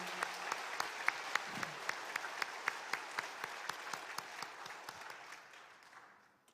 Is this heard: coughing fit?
no